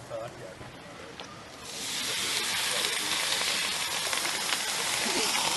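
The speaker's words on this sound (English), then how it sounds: "I'm just steaming them so they taste like they just came off the griddle." Steaks steam on a camping griddle, a broad steady hiss that swells louder partway through and holds, with faint crackling and background voices.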